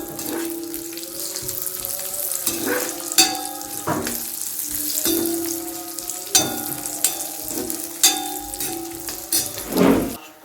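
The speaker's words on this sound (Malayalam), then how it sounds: "കിസ്മിസും കൂടെ വറുത്തെടുക്കാം." Raisins frying in ghee for a beef dum biryani give a steady close sizzle, with repeated scraping and clinking stirs of a utensil against the pan and no talking.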